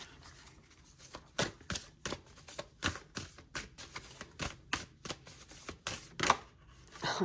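Tarot cards are shuffled close by in a quick, steady run of crisp riffling clicks and soft flaps that repeats for several seconds.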